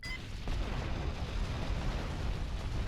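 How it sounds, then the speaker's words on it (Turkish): A dense, sustained roaring blast fills the whole stretch, a loud rumbling explosion in GTA Vice City Definitive Edition that holds steady rather than fading quickly, with no talking. "Evet hadi patlama efekti."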